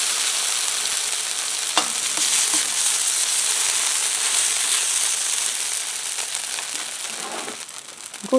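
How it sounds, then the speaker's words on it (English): Johnnycakes frying on a hot griddle, a steady, close hiss and crackle of sizzling batter with occasional small pops and scrapes. "I'm going to get the griddle temperature kind of stabilized here, and then I'll cook a bunch."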